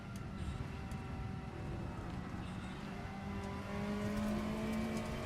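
Touring car engine in Assetto Corsa, a front-wheel-drive British touring car, revving steadily as throttle is applied out of a corner, with a rising engine tone near the end; continuous and fairly loud, with no talking.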